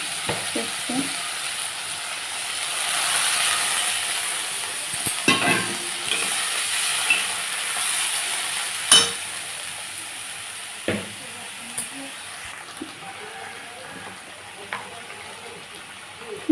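Water goes into a pan of sizzling paste of ginger, cumin, chili, tomato, cashew and poppy seed; a hissing surge swells, then eases into a quieter bubble with sharp spoon clicks against the pan.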